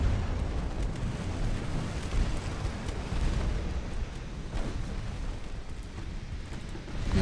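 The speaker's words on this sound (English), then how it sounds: "we must have gotten a big hit. Some kind of an explosion." An enemy heavy cruiser blows up in the naval video game UA: Dreadnoughts, a sustained deep rumbling roar of explosion and crackling debris lasting several seconds, loud and broadband with no speech.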